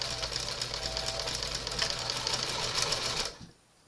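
Sewing machine stitching a seam across a headband, a fast, even mechanical whirring clatter that runs close and steady for about three seconds before stopping abruptly into near quiet.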